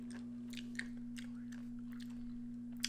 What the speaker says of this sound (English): soured string beans are crunchy